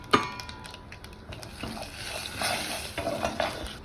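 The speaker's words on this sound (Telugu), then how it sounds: "ఆవాలు, జీలకర్ర, ఎండుమిర్చి పోపు వేసుకున్నాను" Mustard seeds, cumin and dried chillies fry in hot oil in a pan as a tempering for brinjal curry, giving a steady crackling sizzle with a sharp clink of the pan near the start and faint stirring scrapes.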